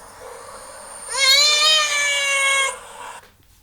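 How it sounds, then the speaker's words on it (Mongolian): A single drawn-out cat meow, loud and close, rising then falling over about a second and a half against a quiet background, then cutting off. "Муур ингэж дуурдаг байна."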